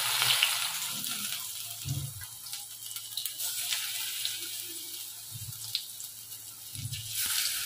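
Pumpkin flower fritters sizzle in hot oil, a quiet, continuous frying hiss with a few louder bursts and low thumps as they are turned over.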